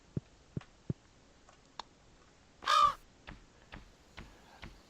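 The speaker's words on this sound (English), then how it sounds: "Crows." A crow in the Stardew Valley farming game gives one loud caw in the middle, surrounded by sparse clicks and ticks at an even pace, with no talking.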